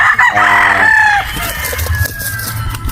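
A gray-bloodline gamefowl rooster on a Batangas game farm crows once, loud and close, a long strained call over about a second that trails off, followed by quieter farmyard background.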